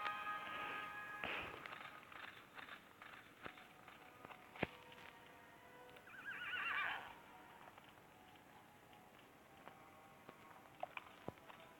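A horse whinnies loudly, then neighs again a few seconds later, with scattered hoof clops and light thuds around it.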